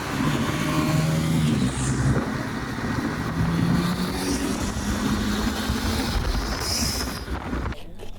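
Three motorbikes riding side by side on the road from Puri to Kolkata give a steady engine drone with wind rush, a near rev swelling and fading as they pass.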